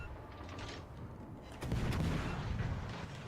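Naval gunfire against battleships in the video game World of Warships: Legends: a steady roar of cannon fire that swells into a louder, denser barrage of booms partway through, with no talking.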